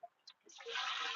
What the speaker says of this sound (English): We're gonna let that flow in there. It's just a harbor freight pump. Just pumps the water so it'll trickle down.